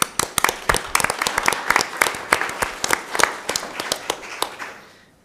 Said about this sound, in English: So a round of applause for everybody that worked on this.